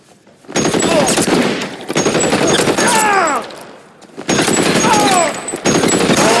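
Sustained bursts of automatic gunfire in an L.A. Noire shootout, loud and continuous across several volleys with brief gaps, with ricochet whines and shouted voices mixed in.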